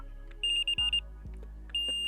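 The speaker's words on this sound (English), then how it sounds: "So if I turn this alarm on" Wolf Icon Q fishing bite alarm sounding its electronic tones: bright beeps in short bursts and a longer sustained tone, over a low hum, with two soft thumps in between and no speech.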